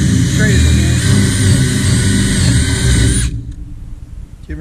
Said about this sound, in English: Just gonna drill the hole straight at the end.